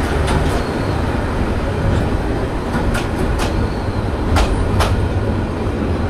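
Nazirhat local train rumbling along the rails near Chattogram, a steady loud roar of wheels and carriages with sharp metallic squeals and clicks recurring throughout, no voices.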